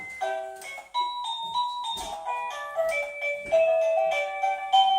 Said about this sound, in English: There's Happy Birthday.